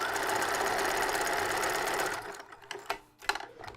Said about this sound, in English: I'm going to take those pieces and I'm going to sew them on the pinned spot, gather them up.